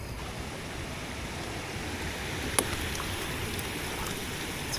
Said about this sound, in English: It's a pretty looking spillway